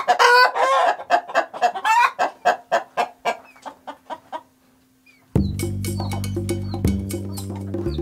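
Local chickens on a farm cluck in a rapid run of short calls that slows and fades, then a steady hum of nearby farm noise takes over.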